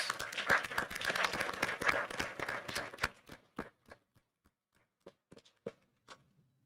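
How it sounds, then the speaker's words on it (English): Applause for an award-winning teacher at a school board meeting, dense clapping for about three seconds, then thinning to scattered individual claps before fading out. "if we can recognize Mrs. Garcia with a round of applause, please"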